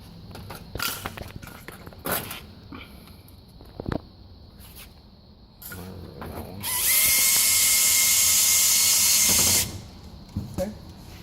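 A power driver whirs steadily for about three seconds as it runs a screw into an oven during thermostat installation, set between shorter clicks, taps and handling noises, with no talking.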